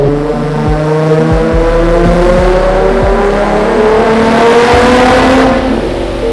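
A Nissan G35 with a naturally aspirated VQ35HR V6 on a dyno revs hard and loud, its engine pitch climbing steadily through a long sustained pull with a few brief dips, no talk over it.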